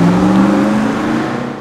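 A 2020 BMW X7 on a 0 to 60 acceleration run, its engine giving a steady, strong whir and hum that rises briefly and holds, with no talking.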